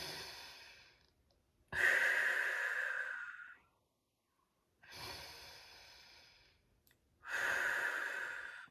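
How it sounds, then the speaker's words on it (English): Slow, deep breaths during a hip and low back stretch: two long, audible exhales, each followed by a quieter inhale, close to the mic in a quiet room. "All right, 2 more breaths here."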